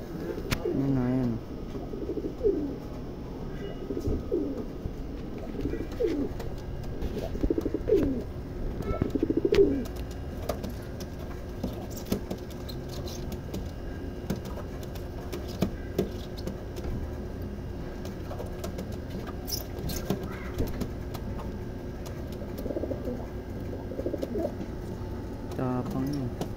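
Pigeons being fed coo in repeated low, throaty rolls, loudest early on, with people talking nearby and faint outdoor background sound.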